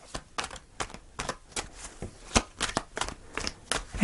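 Tarot cards are shuffled in quick, repeated riffling bursts, close and fairly quiet, with no talking.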